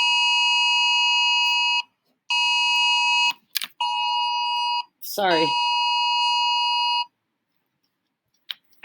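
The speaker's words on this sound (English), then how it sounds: "Today we've got alerts on my phone." A phone emergency alert sounds in loud sustained beeping tones with brief gaps, repeating over several seconds and then cutting off, while a person speaks briefly nearby.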